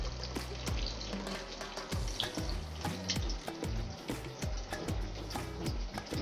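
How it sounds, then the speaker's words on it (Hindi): Masala spices frying and sputtering in a pan for a desi mutton curry, a steady wet crackle with scattered sharp pops and sizzles running continuously, close and fairly loud. "यहाँ पे मसाला भून रहा है।"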